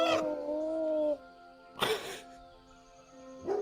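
People imitate wolves with their voices, giving a long wavering howl followed by shorter bursts, in a quiet indoor setting.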